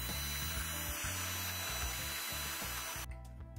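Power drill boring small holes in a blank metal I/O plate, with the plate clamped between small pieces of wood in a bench vise; a steady, loud grinding whir runs continuously, then stops abruptly near the end.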